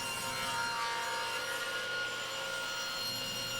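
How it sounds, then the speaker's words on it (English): Cedar boards being cut in half with the saw blade tilted to 45 degrees, a steady sustained whirring cut with a bright tonal hum, continuous and even, with no talking. "I tilted the blade to 45 degrees and then cut each of the boards exactly in half"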